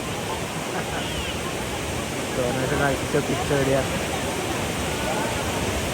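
Waterfall at Piduan in Don Victoriano, Misamis Occidental, a steady broadband roar of falling water filling the scene, with people talking over it partway through.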